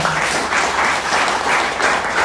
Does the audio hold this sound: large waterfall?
no